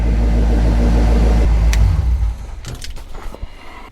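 A 1950 Ford F1 truck engine runs with a loud, deep, steady idle rumble up close, then cuts off about halfway through, leaving scattered small clicks and handling noises in a quieter space.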